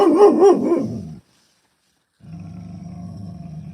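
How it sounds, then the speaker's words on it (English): A dog lets out a few loud, close barks, followed by a brief silence and then a low rumbling growl. "Whoa, who you barking at? Who you barking at?"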